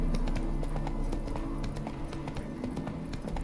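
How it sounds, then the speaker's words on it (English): Roach the horse in The Witcher 3 spooking and bolting, a quick run of hoof clip-clops drumming over a rumbling game background, close and fairly loud, with a faint voice present. "Spooking my horse."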